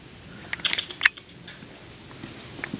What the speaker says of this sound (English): I will usually add a few strips of duct